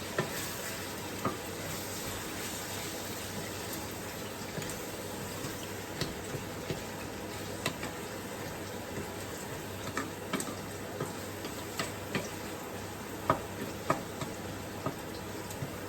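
Kale and okra stirred with tomatoes and spices in a pan: a steady low sizzle with repeated light scraping and tapping of a spoon against the pan, no talking.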